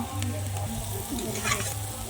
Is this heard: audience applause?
no